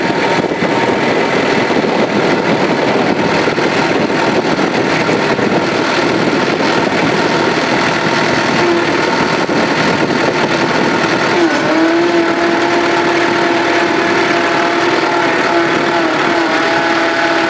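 A New Holland tractor engine runs steadily and loudly alone, a broadband mechanical drone, with a pitch change about two thirds through as the two-speed transmission is shifted on the go.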